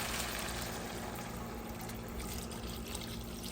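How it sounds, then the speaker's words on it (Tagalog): Water pours steadily into a pot of pea soup with fish in a home kitchen, a continuous close splashing trickle with no talk. "Lagyan na natin siya ng tubig para hindi masunog."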